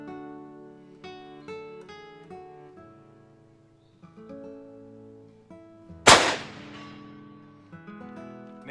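A single sharp gunshot from a Remington XP-100 bolt-action pistol fired at a 150-yard hillside target cracks loudly and echoes away, set against quiet outdoor background tones.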